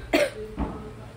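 Two quick coughs close by, a sharp first one followed by a softer second, then quiet.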